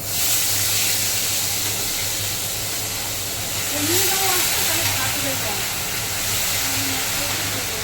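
Green chili and ginger go into hot oil already tempered with cinnamon, giving a loud, steady hiss of frying that swells slightly partway through, with a low hum beneath.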